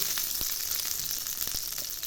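A chopped cutlet with cheese fries in a pan with a steady, bright sizzle and a few soft pops and clicks scattered through it.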